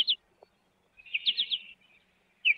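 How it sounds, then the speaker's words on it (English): A bird gives short, high chirping contact calls in winter, one brief note, then a quick run of three or four, then another, with quiet gaps between. "This call is what we call a contact call."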